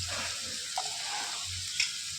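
Green chillies hit a pan of frying onions for an egg curry, giving a steady, soft, close sizzle with faint clinks near the middle and end. No voices.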